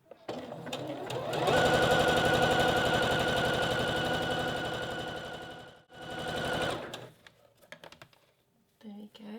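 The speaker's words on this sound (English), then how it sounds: "so just secure with a few machine stitches" A domestic sewing machine stitches elastic onto fabric in a fast, even whirring run lasting several seconds, pausing briefly, then resuming for a short burst before stopping amid small handling clicks.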